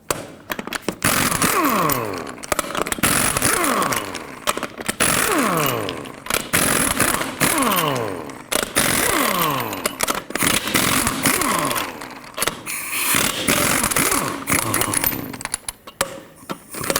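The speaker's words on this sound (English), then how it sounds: "with a 22mm socket as well, go ahead and remove all 8 of your lug nuts" An impact wrench spins off the lug nuts on a 2003-2021 Chevrolet Express 3500 van wheel with a 22mm socket, giving loud repeated whirring bursts separated by short pauses, one nut after another.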